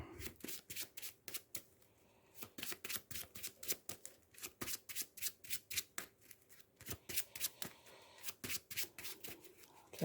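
A deck of Marvel Champions game cards is shuffled over and over, each riffle a sharp crackling burst in an even, rapid rhythm, close and clear with no talking.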